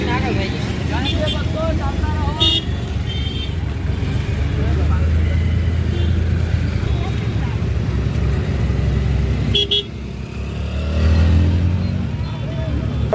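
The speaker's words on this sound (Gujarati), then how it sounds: "તો મિત્રો ટ્રેક્ટરમાં આપણે બેસી ગયા" A tractor engine rumbles steadily from on board during a ride on the Ambaji pilgrimage route, with people talking over the continuous drone and road noise.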